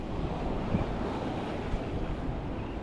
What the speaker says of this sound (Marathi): लाटा येतच सुसाटमध्ये येतो.